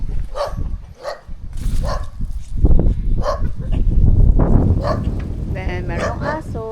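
A noisy dog at a house by a garden in Japan barks in sharp repeated yaps, mixed in with a person talking and some handling noise nearby.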